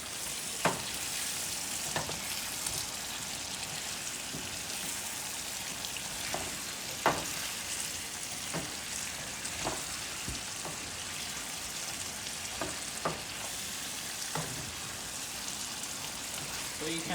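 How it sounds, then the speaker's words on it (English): A spoon stirs sauce for peppered veggie chicken in a frying pan, with steady loud sizzling throughout and sharp scraping knocks against the pan at irregular intervals. "You're gonna give it a good stir so the sauce is evenly spread."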